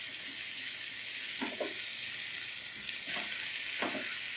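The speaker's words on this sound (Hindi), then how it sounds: "तकरीबन 1-2 मिनट तक हम इसे फ्राई करेंगे मीडियम फ्लेम पे।" An egg mixture with chopped tomatoes fries in a pan over a medium flame, giving a steady bright sizzle with a few soft stirring scrapes partway through.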